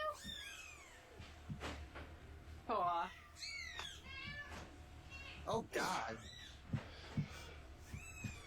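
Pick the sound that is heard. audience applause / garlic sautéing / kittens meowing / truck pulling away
kittens meowing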